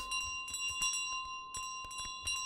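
Small bell jingling repeatedly as a goose runs in Untitled Goose Game, a series of bright, fairly soft rings in an irregular rhythm with no talk over them.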